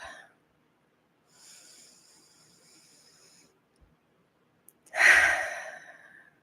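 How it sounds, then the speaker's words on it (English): A person breathing during a guided meditation, with a soft, faint airy breath at first and then a louder, close exhale that fades out after a quiet pause. "you might notice I took a nice long inhale through my nose"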